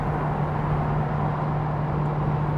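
A TVR Chimaera engine purrs at a steady 2,500 rpm while cruising, giving a continuous low drone with road and wind noise around it and no voices.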